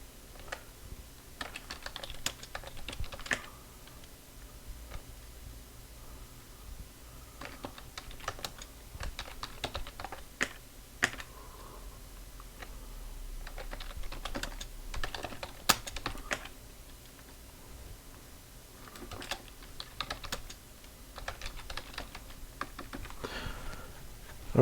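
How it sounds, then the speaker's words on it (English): Typing on a computer keyboard, close-up clusters of quick key clicks coming in bursts separated by short pauses, fairly quiet and without talk. "Just type in a few random words and names."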